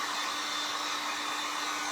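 A hair dryer blows steadily on a painted project, a continuous close whooshing roar with a faint electric hum, alone with no talking.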